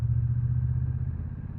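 Motorcycles at Devil's Bridge on a weekend, a steady loud rumbling engine drone from nearby bikes, continuous throughout with no talk.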